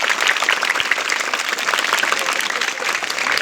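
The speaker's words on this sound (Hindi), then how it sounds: "उनके लिए ताली बजाए बजा जोरदार" Enthusiastic applause for schoolchildren at a government higher secondary school event, many hands clapping in a dense, continuous burst that stays loud throughout.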